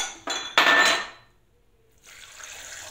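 Chocolate cream ingredients being stirred together in a pan (sugar, milk, chocolate, cornstarch and cocoa), with a loud scrape and clink of a utensil against the metal, a pause, then a softer stretch of stirring.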